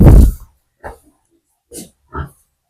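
Newborn piglets on a pig farm grunting and squealing: one loud close squeal at the start, then three short separate grunts spaced out in near silence.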